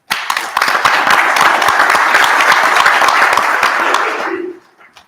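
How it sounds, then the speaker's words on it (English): A conference audience at a supply chain summit plenary panel bursts into loud, sustained applause for the panelists, then the clapping fades out abruptly near the end, leaving quiet room tone. "Let's clap it up for them."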